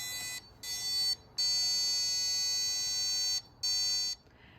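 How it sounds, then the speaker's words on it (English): An electronic buzzer sounds the Morse code letter F as four loud, shrill, steady tones: two short beeps, one long tone and a final short beep, with clean gaps and no voices. "you can trace the output from the sound of the buzzer"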